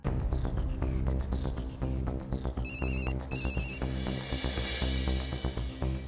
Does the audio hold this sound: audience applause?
no